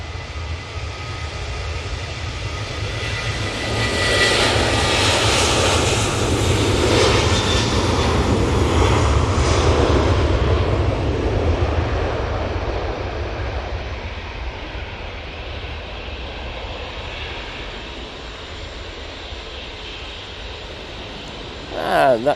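A Tui Boeing 737-800 jet at Manchester Airport, its engine roar rising and peaking up close, then fading into a distant rumble, with brief talk heard near the end.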